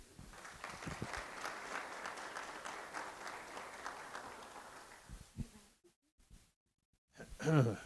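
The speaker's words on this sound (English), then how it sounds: "Let's give them a round of applause." Audience applause at a Guide Dogs for the Blind class graduation, steady broadband clapping for about five seconds that thins out and stops, followed by near-silence and a brief burst of sound at the end.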